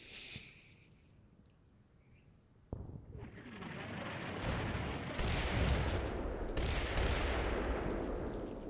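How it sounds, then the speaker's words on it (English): Artillery barrage in the Combat Mission World War II game, with a heavy blast that sets off a rumbling, building roar of repeated explosions, loud and continuous to the end. "wait for that barrage to finish"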